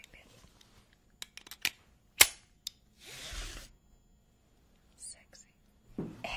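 A vintage 1963 seatbelt buckle clicks several times in sharp, close, isolated snaps, with soft whispered speech and rustling around them in a quiet ASMR setting.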